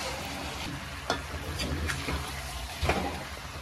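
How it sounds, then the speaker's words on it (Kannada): Chicken is stirred in a pan with masala paste and lemon juice, a constant crackling sizzle with a few distinct scraping strokes of the spoon, fairly close. "ಚೆನ್ನಾಗಿ ಮಿಕ್ಸ್ ಮಾಡ್ಕೊಳ್ಳಿ."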